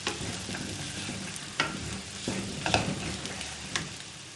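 Vegetables for a crispy vegetable bar sauté in a pan with a steady low sizzle, while a spatula scrapes and stirs in occasional sharp strokes close by.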